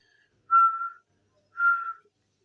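A human voice imitates the whistling wheeze of asthmatic breathing with two separate high, thin whistles, each about half a second long and evenly spaced, in otherwise near-silence.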